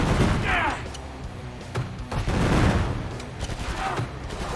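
Gunfire from the video game Killing Floor 2 keeps up as dense, loud, rapid bursts and booming shots over a constant roar, while players talk.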